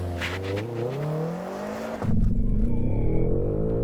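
A sports car, one of a Mercedes, Aston Martin, Porsche or BMW, launches hard from a standstill: the engine note climbs steadily, then jumps into a louder, harsher surge as it accelerates, heard from inside the cabin.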